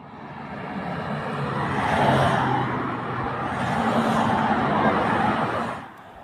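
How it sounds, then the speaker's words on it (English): Vehicles in a presidential convoy on a Kenyan road in Embu County speed past in single file, a broad steady whoosh of traffic swelling twice and fading away near the end. "The initial vehicles leading the presidential convoy speed past in a single file."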